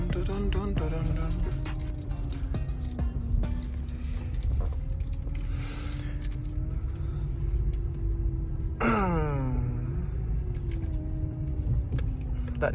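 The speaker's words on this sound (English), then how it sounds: "That noise you're hearing is a power steering noise." A whining, pitch-shifting tone from the power steering of a 2005 Honda Accord, which may be leaking, sits over a steady low engine rumble throughout, with a sharp rising-falling whine sweep near the end.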